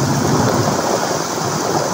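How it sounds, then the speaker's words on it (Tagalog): Heavy rain pounds down during a thunderstorm, a loud, dense, unbroken roar of falling water with no voices. "Grabe mga idol, lakas ang ulan oh"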